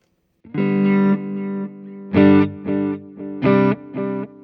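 Electric guitar notes and chords played through a Laney Black Country Customs The Difference Engine stereo delay pedal, modulation on the repeats, a handful of sustained strums with soft shimmering repeating tails, clear and up front.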